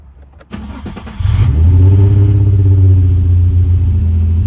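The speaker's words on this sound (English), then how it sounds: "We're gonna turn the car on." A car engine cranks with a few sharp clicks, catches, and settles into a loud, steady idle heard close up with a low, even drone.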